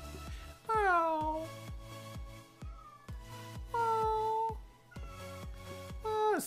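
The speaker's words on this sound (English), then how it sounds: "my cat's back. Meow." A cat meows loudly several times in drawn-out, wailing cries, while a person nearby makes sharp clicking noises and a few quieter sounds between.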